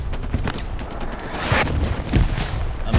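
An aircraft strafing run in Hell Let Loose rattles out rapid gunfire amid booming impacts and battlefield noise, loud and continuous with heavier bursts around the middle and end.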